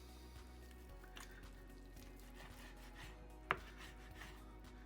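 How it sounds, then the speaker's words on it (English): A knife chopping bacon lard on a board for Hungarian goulash, soft irregular cuts and squishy taps at low volume, with one sharper knock partway through. "As you can see, just cutting this up."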